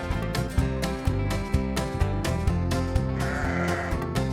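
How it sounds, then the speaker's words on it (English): A sheep bleats briefly toward the end, a short wavering call partly buried under loud, rhythmic children's music. "Sheep."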